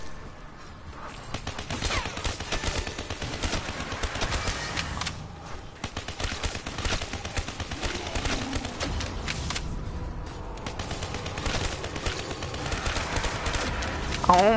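Relentless video game gunfire, dense bursts and volleys of rapid shots that run nearly the whole time, loud and close, with a brief lull midway and another near ten seconds.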